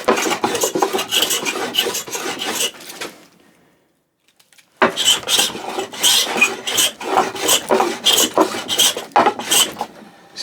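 A Melbourne Tool Co. cabinet scraper, its screw turned to set the burr, rasps steadily across a wooden board in long close strokes, pausing briefly midway before resuming with continued scraping.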